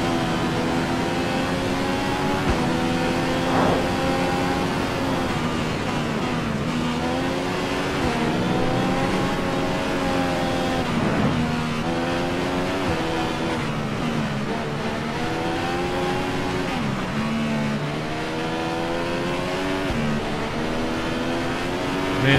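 Formula 1 race car engine in the F1 2015 video game on a lap of the USA circuit, a loud, steady high-pitched whine rising and falling with gear changes and throttle, continuous throughout with no talking.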